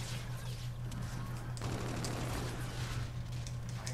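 Rapid automatic gunfire from a weapon in the first-person shooter Infinite Warfare, a dense unbroken stream of shots held at steady loudness over a low constant hum.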